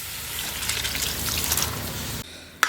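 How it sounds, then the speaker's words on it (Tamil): Boiled cooking water poured into a simmering dried salted meat curry with eggplant and lentils: a soft, close trickling and splashing that runs steadily for about two seconds and then stops, ending with one small knock. "இந்த வேக வச்ச தண்ணி சேர்த்து ஊற்றும் போது அந்த வாசனை குறையாமல் இருக்கும்"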